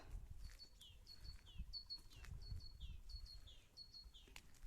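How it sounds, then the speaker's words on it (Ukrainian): Faint spring birdsong repeats in short chirping phrases at a steady rhythm, over a low outdoor rumble with no talking. "пташки співають."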